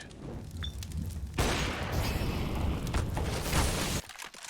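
Gunfire in the video game Counter-Strike during a match, a sudden dense burst of shooting that sustains for a few seconds before cutting off abruptly, with no talk over it.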